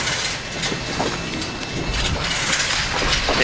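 A train hauling tanker cars runs on rails near a railroad crossing, a loud, close, continuous rumble with rhythmic clacking and metallic rattles throughout, with no talk.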